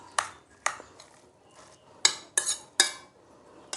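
A utensil stirs a tofu, vermicelli and egg mixture in a bowl, sounding as several sharp separate clinks and scrapes close by against quiet background.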